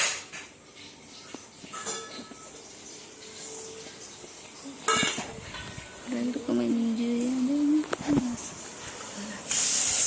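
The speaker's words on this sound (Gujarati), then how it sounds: "મમ્મી અંદર વઘારે છે શાક." Vegetables drop into hot oil for tempering in a home kitchen, and a sizzling hiss swells for a few seconds midway, with clinks of utensils and brief talk around it.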